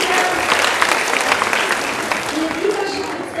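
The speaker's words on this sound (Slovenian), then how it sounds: "Še en velik aplavz za velike glasbenike." An audience gives sustained applause for young musicians from a music school at a youth awards event, dense clapping filling the hall with a voice speaking over part of it.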